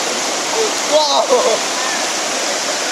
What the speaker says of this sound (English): Water here is so cold, and this water flow is fast